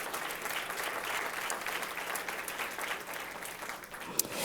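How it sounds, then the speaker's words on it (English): Audience applause at a mayor's small business conference, a steady, dense wash of many hands clapping, moderately distant and consistent throughout with no talking over it. "I think that deserves a round of applause."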